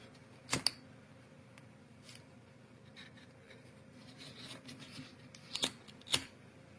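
Scissors snip macramé cord for a net-style necklace, a few sharp, close clicks standing out against a quiet room hum with soft handling rustles between them.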